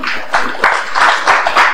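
Brief applause from the audience at a regional workshop opening for someone speaker, a short run of mixed hand claps, fairly close and steady, with no talking.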